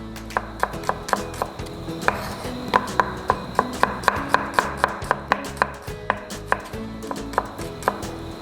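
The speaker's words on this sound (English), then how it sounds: "When you get it right, cut it half first, and then slice it small." A knife slices shallots on a cutting board in a steady run of close, sharp taps, roughly two or three per second, with no talking.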